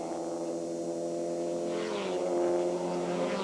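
Race cars at Mosport during a 1991 Firehawk Championship round, including the Q107 Porsche, with a steady engine drone that swells slightly as cars approach, heard from a distance with a continuous roar.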